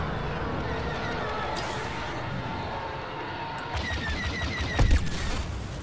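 Sharp gunfire shots from Star Wars Battlefront II, a few scattered bursts over a steady background hum, with one louder bang near the end.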